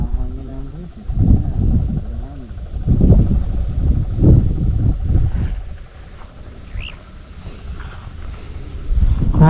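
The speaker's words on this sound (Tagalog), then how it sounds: "Mahangin na nga." Wind buffets the microphone in low, gusty rumbles while people talk over it.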